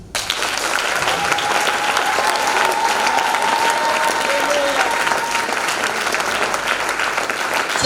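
A French-speaking church congregation at a Sunday service breaks into loud, sustained applause with some cheering, a dense crowd roar that holds steady throughout.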